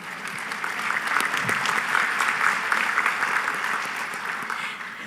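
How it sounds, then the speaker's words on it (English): Sustained audience applause at a bowling convention annual meeting, a dense steady clatter of many hands clapping that holds evenly for several seconds before easing slightly. "Yes, you may applaud for him."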